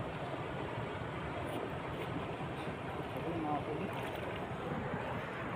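Fast-flowing Sutlej river in flood, a steady, loud rushing roar of water mixed with wind buffeting the microphone, constant and close throughout, with faint voices underneath.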